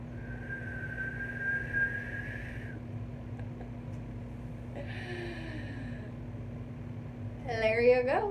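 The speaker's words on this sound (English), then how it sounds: "Does that count as a whistle?" A person attempts a whistle, producing a thin, wavering tone with breathy bursts and a final rising warble, faint and close over steady low room hum.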